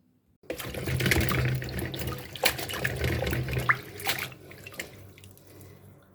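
Taro stolons being rinsed under a running tap, with water splashing and gurgling in a sink. The flow starts abruptly after a brief silence and continues steadily, with some louder splashes.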